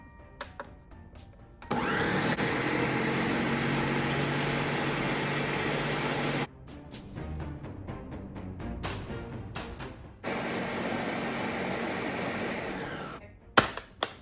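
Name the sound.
Ninja blender pureeing cooked pumpkin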